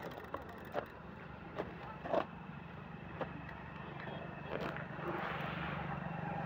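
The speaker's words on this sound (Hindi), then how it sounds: "बाइक आ रही, बाइक यहीं खड़ी करो" A motorbike approaches along farm fields after rain, its engine a low hum that swells louder over the last couple of seconds, with scattered light knocks and clicks nearby.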